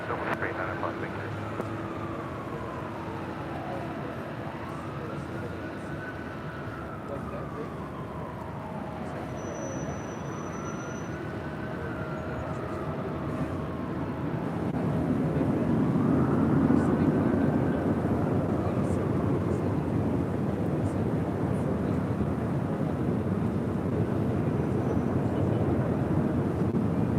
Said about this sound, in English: So Falcon is taking off to Van Nuys.